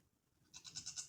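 A goat lets out a short, wavering bleat after a quiet moment, fairly close and clear against faint farmyard background.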